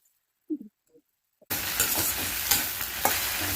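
Okra tossed into a hot pan for a Telugu chutney, a few soft clatters and then a sudden loud steady sizzle with crackles, close and continuous.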